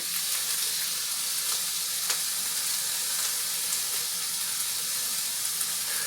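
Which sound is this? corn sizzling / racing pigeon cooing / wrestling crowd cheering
corn sizzling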